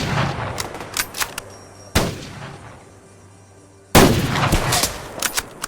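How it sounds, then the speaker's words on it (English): Mosin Nagant rifle fire in the multiplayer shooter Survarium: two sharp, loud broadband shots about two seconds apart, each with a long rumbling tail, amid ongoing distant gunfire and battle noise, with no talking. "When you fire the Mosin Nagant, you can almost hear it thumping into your shoulder."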